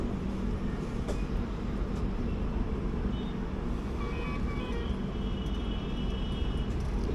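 The 16217 Mysuru-Shirdi Express runs onto a double main line at dusk, a steady loud rumble of wheels and carriages from inside the train, with faint high squeals and occasional clanks over the continuous roar.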